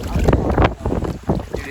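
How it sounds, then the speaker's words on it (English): Strong gusts buffet the microphone outdoors beside a winter river, producing uneven, rumbling bursts of wind noise that rise and fall in quick surges. "it is so windy"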